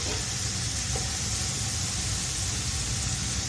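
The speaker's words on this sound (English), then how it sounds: "While the second batch of beef is browning" Beef chunks searing in a hot pan for beef bourguignon, giving a steady, close sizzle and hiss with no break and no voices.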